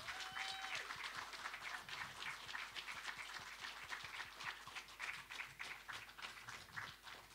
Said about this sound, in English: give a massive round of applause for Mr. Ryan Browne